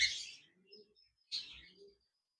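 Two short bright chirps from a pair of lutino red-eye cockatiels, separated by a brief pause, fairly quiet and close, with no talking.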